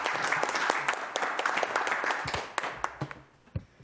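Warm, steady applause fills a council committee session, with many hands clapping close together and fading toward the end, leaving a few scattered claps.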